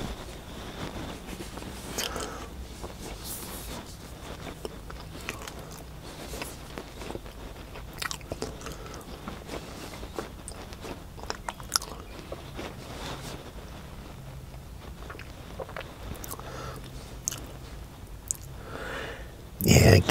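Soft, close crunchy bites and moist chewing of a keto grilled cheese sandwich, irregular mouth sounds at low volume with a brief louder rustle at the end.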